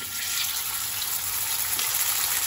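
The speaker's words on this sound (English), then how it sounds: "you want to get your pan, like with some oil in it, ripping hot, and you just want to sear these steaks really quick" Steaks sear in a ripping-hot oiled pan, giving a steady, loud, unbroken sizzle with no pauses and no voices.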